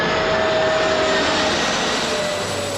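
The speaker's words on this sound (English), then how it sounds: "The aircraft was now climbing directly into the flight path of the BA plane." Jet airliner climbing after an aborted landing, a loud steady engine roar with a faint whine running through it, close and continuous, with no voices.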